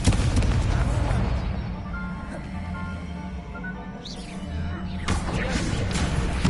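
Spell explosions from Hogwarts Legacy combat: dense, continuous booms and crashes layered over a game soundtrack, with a louder burst toward the end.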